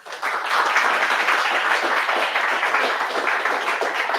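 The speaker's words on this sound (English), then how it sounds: "Round of applause." An audience at an in-person serverless tech meetup claps, a dense, steady round of applause that starts abruptly and holds for several seconds.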